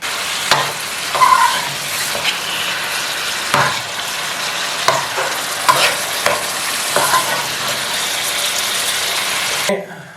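Chicken frying with onions in a pot for biryani, a loud close hiss and crackle with repeated scraping strokes of a spoon stirring, running steadily until it cuts off abruptly near the end.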